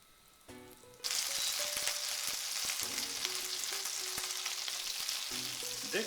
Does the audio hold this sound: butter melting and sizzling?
yes